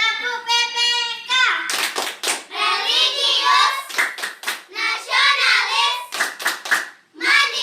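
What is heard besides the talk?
rhythmic hand clapping game, tepuk PPK, by children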